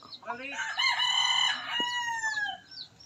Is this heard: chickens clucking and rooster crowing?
yes